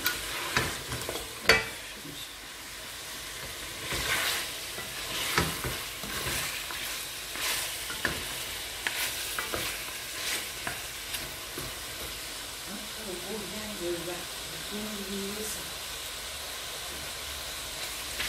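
Meat browning in a pot makes a quiet, continuous sizzle and hiss, with irregular utensil scrapes and knocks, some of them sharp, and faint background murmurs toward the end.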